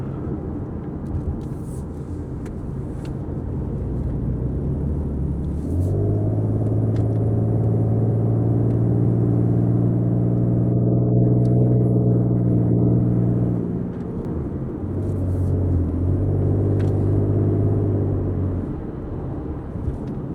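Ford Mustang V6 driving along mountain roads, a steady engine drone that rises in pitch as it revs up, holds, then drops and climbs again, close and continuous with road rumble beneath.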